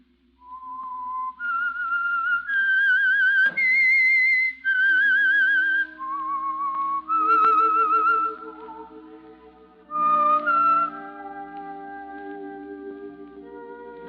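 Whistled radio theme for The Whistler, a lone eerie melody of sustained, wavering notes rising and falling, joined near the end by soft orchestral accompaniment.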